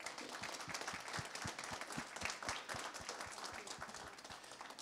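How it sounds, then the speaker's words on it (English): Applause from the audience at an agile community meetup, a steady wash of many hands clapping for about five seconds with distinct regular claps standing out, moderately quiet and without talk. "A round of applause, please."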